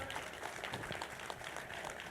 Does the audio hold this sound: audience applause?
yes